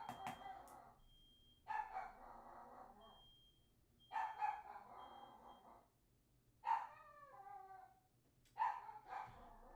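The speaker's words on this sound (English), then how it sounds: "It's not my dogs barking." A dog barks in several short bursts spaced a few seconds apart, with a faint steady electronic fire alarm beeping in the background.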